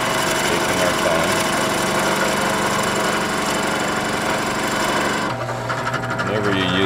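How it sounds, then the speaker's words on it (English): Drill press boring holes through knotty wood for T-nuts: a continuous motor whine with rough, buzzing cutting texture that changes near the end as the bit breaks through or stops, close and loud. "Whenever you're using a drill press, you want to focus on what you're doing."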